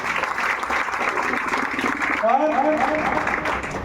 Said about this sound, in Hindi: एक बार सभी लोग अपने अपने लिए जोरदार ताली बजाएं।